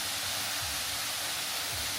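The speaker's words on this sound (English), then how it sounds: "And there's a waterfall right here." A waterfall roars steadily in a natural setting, a dense, even rush of broadband noise that holds constant for the whole short stretch without any voices.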